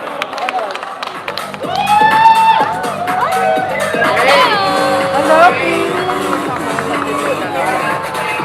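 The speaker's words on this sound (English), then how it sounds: "A round of applause for our royal court." A crowd at the Miss Universe Philippines 2023 coronation after-party cheers and whoops loudly, with shrill voices rising over steady clapping and babble throughout.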